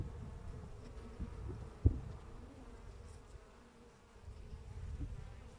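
Carniolan honey bees hum steadily at an open hive, a low continuous droning buzz with one brief knock partway through and no talk.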